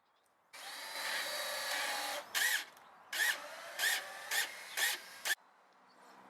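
A power drill drilling macrocarpa wood for planter boxes whines steadily for a couple of seconds, then runs in five or six short bursts with pauses between, close by.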